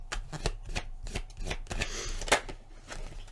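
Tarot cards are shuffled and drawn by hand, giving a quick sequence of crisp papery riffles and flicks, close and fairly quiet, in an uneven rhythm.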